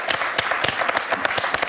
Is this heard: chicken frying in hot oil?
no